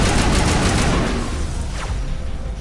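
Rapid gunfire in the video game Mass Effect Legendary Edition while shooting at a sniper, a loud dense burst of rattling shots that fades slightly toward the end.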